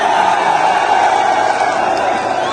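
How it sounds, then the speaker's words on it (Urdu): A large crowd at an outdoor political rally in Khyber, roaring and chanting in a dense, continuous, loud wash of voices with no breaks. "قیدی نمبر 804 کے نعرے لگائے گئے"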